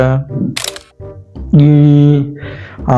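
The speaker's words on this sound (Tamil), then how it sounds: "நம்ம ஒரு செல்ஃபி எடுப்போம்" A smartphone camera shutter snaps a selfie during a Tamil Christian drama scene, a brief sharp burst between lines of loud, close dialogue from several voices.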